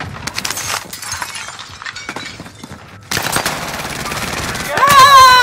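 Video game gunfire in a squad-based shooter: bursts of rapid automatic shots and sharp cracks come in dense volleys, mixed with glassy breaking clatter and a rising whine near the end, with players talking over it.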